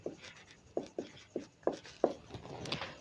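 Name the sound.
writing on paper or a board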